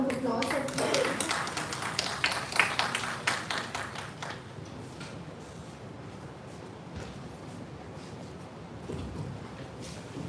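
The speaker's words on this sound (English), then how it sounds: "Give a huge round of applause for" Applause from an audience at a university event in India, greeting a doctor invited to the stage; dense clapping swells loudly in the first few seconds, then thins into scattered claps and room murmur.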